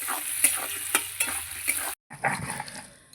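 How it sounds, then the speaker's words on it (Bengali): Potatoes fry in a pan for a Bengali fish curry, a close crackling sizzle with scraping stirs, briefly cutting out before the sizzle and clatter resume. "এবার আমি আলুটাকে ভাজবো ভালো করে"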